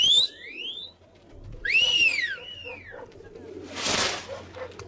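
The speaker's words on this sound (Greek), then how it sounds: "Αυτά που βλέπετε είναι παρατημένα περιστέρια." Pigeons released on Santorini give a few bright, sweeping whistle-like calls in quick succession, followed by a short, loud burst of wing flapping, all close by over a faint low background.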